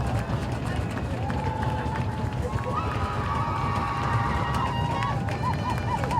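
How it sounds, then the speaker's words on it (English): A college football crowd at a UNCP versus Limestone game swells into a loud, sustained roar before a third-and-goal play, a dense continuous wall of noise with whistles and shouts poking through. "Crowd gets loud."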